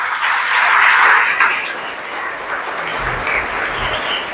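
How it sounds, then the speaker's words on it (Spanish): A church congregation applauds loudly, a dense burst of clapping that peaks early and then settles into a steadier, slightly softer patter. "Vamos a dar un fuerte aplauso a Jesús"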